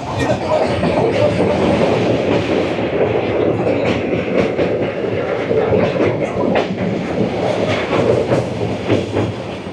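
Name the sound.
Kandari Express train running, Howrah to Digha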